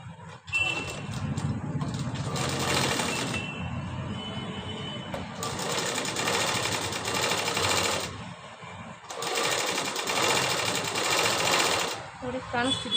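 An electric sewing machine stitches lining fabric in three long runs of rapid, steady whirring, with quieter pauses of fabric handling between them.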